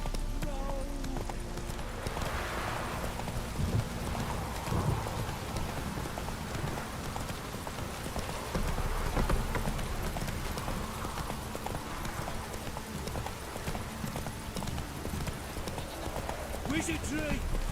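Horse trotting in The Witcher 3, a steady run of clip-clop hoofbeats over a constant bed of rain and ambient game sound, with a voice briefly speaking over it.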